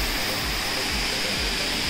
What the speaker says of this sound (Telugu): యాక్చువల్గా ఆ కొండలోంచి వస్తున్నాయి వాటరు.